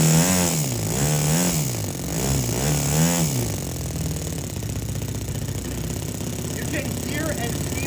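A small RC model engine revs up with a pulsing, rising and falling drone, harmonics sweeping up and down over the first few seconds before settling into a steady high buzz, loud and close.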